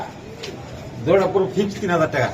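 Budapest racer pigeons at a market sale give a few low, throaty coos up close, mixed in with people talking nearby.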